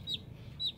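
Day-old Buff Orpington chicks from a hatchery give two short, high peeps in quick succession over a low background hum.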